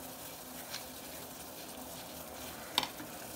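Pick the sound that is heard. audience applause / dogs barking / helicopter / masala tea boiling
masala tea boiling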